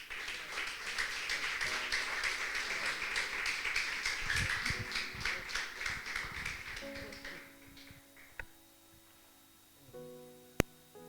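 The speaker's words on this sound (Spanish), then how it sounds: "Denle un fuerte aplauso al Señor." A church congregation applauds during a worship service, a dense, steady clapping that fills the room for about seven seconds before fading out, followed by a quieter stretch with faint tones and a couple of isolated knocks.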